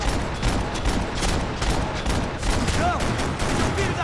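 Sustained rapid gunfire in Max Payne 3, a dense run of loud close shots with a few high whizzing ricochet-like tones partway through, no voices over it.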